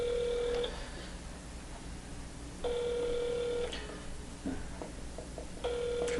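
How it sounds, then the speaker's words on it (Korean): Telephone ringback tones sound on a Korean radio call-in show as a call to a listener connects, with long steady tone bursts repeating at regular intervals over faint line noise. "오늘 인홍섭 회원님을 처음에 연결하려 하는데"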